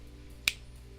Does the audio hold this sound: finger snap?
yes